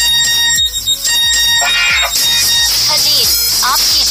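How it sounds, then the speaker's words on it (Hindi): A custom name ringtone plays from a phone, a loud synthesized melody with bright tonal notes over a strong beat, a sung or spoken voice mixed into the music, filling the whole moment up close. "तो पहले हम देख लेते हैं कि ये रिंगटोन कैसी बनी हुई"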